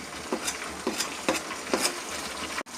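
Two tomatoes fry in a pan for chicken biryani gravy: quiet sizzling under regular, evenly spaced stirring scrapes, ending in a sharp clunk.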